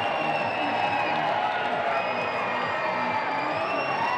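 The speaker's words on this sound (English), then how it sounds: "Pretty good sized crowd today cheering on the Falcons." A crowd cheering at a women's college basketball game in an indoor arena, a steady wash of voices and whoops with scattered clapping, sustained at moderate distance.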